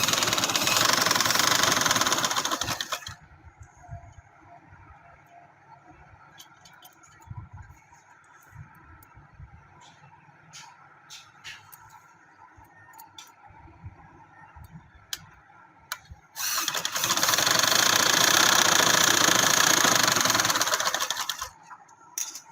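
A sewing machine stitches lace onto the side seam of a trouser in a loud, steady burst, stops for a long quieter stretch of faint mechanical ticking, then runs hard again in a second sustained burst.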